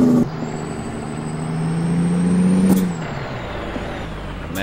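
A heavy truck engine drones and rises as gears shift in American Truck Simulator, opening with a sharp hiss of air and a steady rumble building and easing back down.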